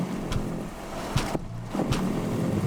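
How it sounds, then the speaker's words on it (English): A struggling car crosses an enormous bridge among heavy lorries, its exhaust spluttering and popping in a few irregular bursts over loud, continuous engine and wind roar. "Oh no, I can hear the exhaust spluttering"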